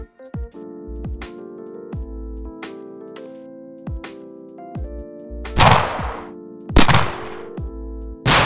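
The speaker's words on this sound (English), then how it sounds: "To create an adaptive gun sound, I designed 4 separate components to the gun sound." Designed game gunfire built in Wwise from layered firing, low-frequency impact and environmental tail components, heard as a series of single punchy shots with booming lows, a few heavier blasts with long noisy tails, and tonal ringing between them.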